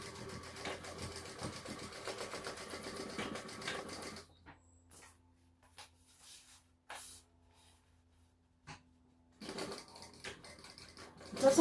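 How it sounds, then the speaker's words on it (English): A sewing machine stitches a pencil pouch in fast, rapid bursts. A long run of stitching gives way to quieter handling and short pauses, then the machine starts up again near the end. "This is a very fast sew."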